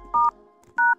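Android smartphone keypad tones as a secret display test code is dialed, two clear electronic beeps about half a second apart, close and alone.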